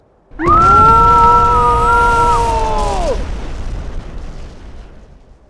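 Self-destruct explosion in a Final Fantasy VII parody: a sudden loud blast with a ringing, siren-like tonal sweep that holds for a few seconds, then a long rumbling decay fading out.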